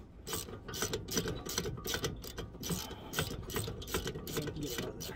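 A small ratchet wrench clicks in quick irregular bursts while loosening a 12 mm rotor bolt on a car brake. The mechanical clatter is close and fairly quiet throughout.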